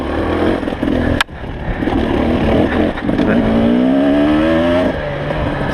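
A Honda 300 enduro motorcycle engine roars loud and close while riding through desert washes, with a sharp knock early on, then a rising whining rev that drops back to idle.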